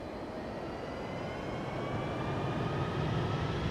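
Engines of a Boeing 747-200 Classic in a flight simulator drone steadily after start-up, a loud, continuous roar with faint rising whine tones above it and no voices.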